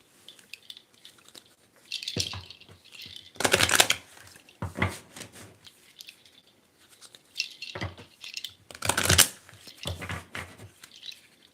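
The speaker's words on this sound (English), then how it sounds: "let's go ahead and see what we get when we shuffle" Several bursts of crisp tarot card shuffling, riffling and clattering in quick rustly runs with short pauses between, close up and no talking.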